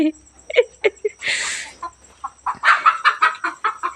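Country chickens cluck and squawk in quick bursts as one is chased, with one loud flapping flurry midway, close by and fairly loud, with a little voice mixed in.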